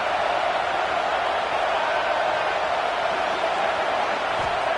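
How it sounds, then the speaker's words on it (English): Steady roar of a packed stadium crowd in the College Football 26 video game, a loud continuous wash of cheering noise with no break across the moment. "This crowd ready to make its presence known."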